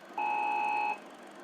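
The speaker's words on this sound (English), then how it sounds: "the beep will be replaced by a loud klaxon alarm" An Apple II running a Swan terminal program sounds one loud, steady electronic tone for under a second, a bright buzzing beep with a higher overtone that starts and stops abruptly, with no speech.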